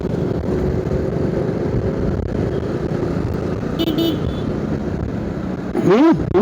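A road vehicle rumbles past nearby in broadband traffic noise throughout, with a brief horn toot near the end and faint voices in the background.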